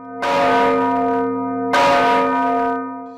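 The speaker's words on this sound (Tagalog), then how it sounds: "Gusto ko marinig yung tunog ng kampana." A ten-tonne church bell cast in 1884 strikes twice, each loud, close toll ringing out with a long, humming decay that overlaps the next stroke.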